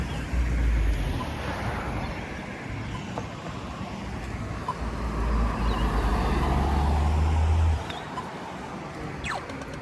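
Ocean waves at a blue Australian beach give a steady, broad wash of surf over strong wind noise, continuous and fairly loud, with little sign of speech.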